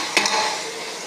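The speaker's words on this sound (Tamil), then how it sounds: "எல்லாம் வதங்குது பாருங்கள்" Vegetables and green chillies sautéing in a pan for sorakai (bottle gourd) sambar, giving a steady soft sizzle with one brief stir or scrape near the start.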